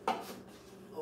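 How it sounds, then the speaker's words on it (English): A lid goes back onto a cooking pot of fettuccine with cream of mushroom soup and chicken in a home kitchen, landing with a sharp metallic clank followed by a brief scrape and a faint rattle. "Put the top back on here,"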